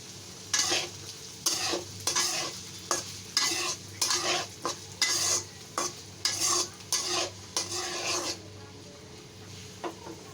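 Bean seeds fry in a pan while a utensil scrapes and stirs them in a steady rhythm of repeated strokes, a close, gritty sizzle with no talk.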